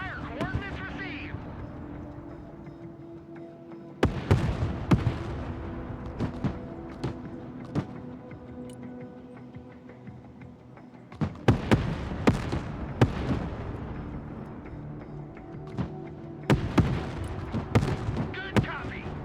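Artillery fire mission in the Broken Arrow war game: repeated clusters of sharp explosive blasts, several in quick succession near 4, 11 and 17 seconds, loud over a steady rumbling battlefield bed with radio-style talk running through.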